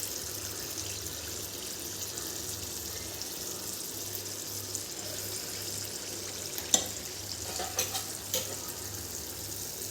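Unniyappam batter for a double Onam-style unniyappam frying in an appam pan: a soft, continuous close sizzle with a few faint clinks late on, quiet and without talk.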